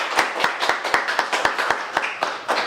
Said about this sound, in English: So they deserve applause as much as anybody else.